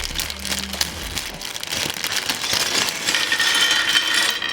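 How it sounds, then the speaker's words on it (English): Crinkly plastic rustling and tearing as a bag of LEGO pieces is opened, steady and close, with small clicks of pieces shifting inside; no voices. "Now let's get the main bag of pieces opened."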